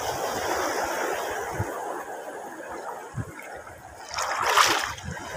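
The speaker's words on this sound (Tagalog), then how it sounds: "Ay, alon." Small waves wash and splash onto a shallow shore during late-afternoon casting, a steady surf hiss with a brief louder break near the end, heard alone without talk.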